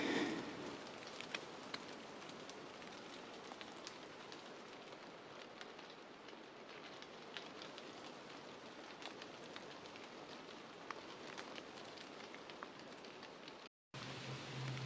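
Steady rain patters on a surface during a foggy July mountain hike near Lac de la Maix, a soft even hiss that lasts throughout and cuts out briefly near the end.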